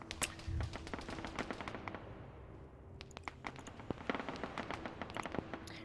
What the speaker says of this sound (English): Now you're hearing air firing in.